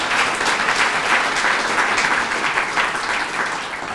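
A large audience applauds a United Healthcare grant announcement, steady dense clapping that holds strong for about three seconds before easing off slightly near the end.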